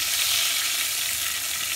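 Potatoes coated in turmeric and salt fry in hot oil, giving a steady, loud, close sizzle that holds without a break and with no voices.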